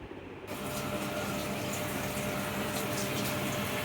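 Water from a tap gushes steadily into bottles being filled, a continuous loud splashing rush starting after a brief quiet moment.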